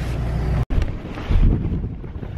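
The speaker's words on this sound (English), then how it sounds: "I can confirm the wind's not died down. It's still miserable. Very blowy." Strong, miserable wind buffets the microphone with a heavy, continuous low rumble that has one brief dropout partway through.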